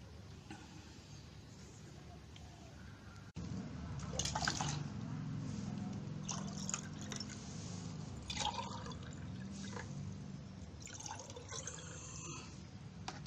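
Water from a betta fish tank being poured out, a steady splashing pour that starts abruptly and runs continuously, with faint drips and some background noise.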